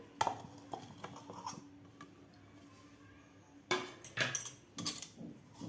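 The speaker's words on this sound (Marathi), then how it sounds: "आता आपल्याला एका चमच्यानं हे व्यवस्थित खालच्या मसाल्यामध्ये कोट करून घ्यायचं आहे पनीर" Metal spoon clinking and scraping in a pan as paneer cubes are stirred and coated in a spice masala, a few scattered soft taps followed by a denser burst of clattering near the end.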